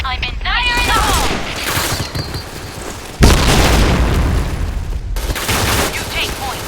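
A video game grenade blast lands with a heavy boom mid-clip, with rapid gunfire bursts and shouting voices around it in a loud firefight.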